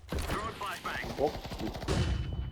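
Short bursts of gunfire in a competitive first-person shooter match, fired in three-round groups, crack repeatedly across the clip over game sounds, with players talking at times.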